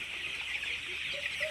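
Chickens on a poultry farm cluck a few times at moderate distance over a steady background hum, brief and without speech.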